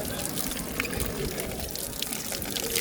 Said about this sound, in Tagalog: So libre yung tubig, maghugas.